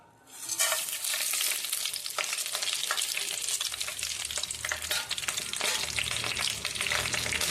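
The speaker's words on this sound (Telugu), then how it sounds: "కొద్దిగా నేను ఆయిల్ వేస్తున్నాను కాగింది కదండి మసాలాలు వేసుకుందామండి" Whole spices hit hot oil for prawn biryani with a sudden loud burst of sizzling that settles into a dense, continuous crackle and spatter close by.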